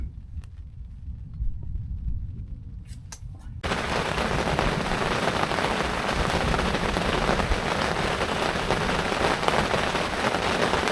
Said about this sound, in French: L'orage continue vraiment encore plus fort et il reste même au-dessus.